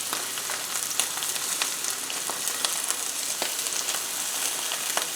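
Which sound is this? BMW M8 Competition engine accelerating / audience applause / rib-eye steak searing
rib-eye steak searing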